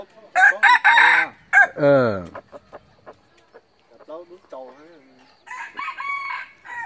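Laos red jungle fowls crow nearby, with a long rising and falling call followed by shorter crows and clucks, while people talk in the background.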